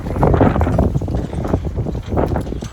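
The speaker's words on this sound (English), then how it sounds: "it's windy" Wind buffeting an outdoor microphone, loud low rumbling gusts that swell and fade in uneven waves throughout.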